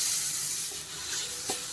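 Garlic fries in butter in a kadai with a steady, close sizzle and hiss, plus a faint stirring scrape near the end and no talking.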